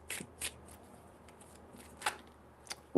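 Tarot cards shuffled by hand in a few short papery bursts, close and fairly quiet, with soft pauses between riffles and a light tap at the end.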